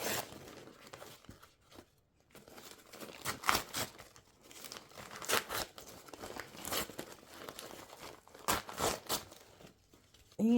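Embroidery stabilizer torn and crinkled away from a finished small lotion holder after unhooping, heard as a string of close, papery ripping and crumpling bursts with brief pauses.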